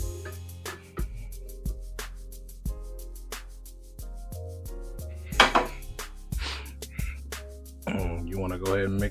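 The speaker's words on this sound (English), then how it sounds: "You want to go ahead and mix this in." Metal spoon scraping and clanking against a pan while stirring cheese sauce into smoked macaroni and cheese with bacon, with repeated close knocks and a wet stirring sound; a voice talks briefly near the end.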